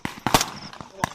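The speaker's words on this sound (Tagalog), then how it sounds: "Sunod-sunod na putok ng baril ang umalingaw-ngaw sa masukal na bahagi ng Fort Magsaysay sa Palayan" Gunfire from Philippine and US Army forces exchanging shots during the Salaknib military exercise in dense terrain at Fort Magsaysay, Palayan, Nueva Ecija: several sharp, loud cracks in quick succession with echoing tails.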